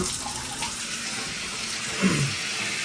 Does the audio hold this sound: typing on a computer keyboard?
no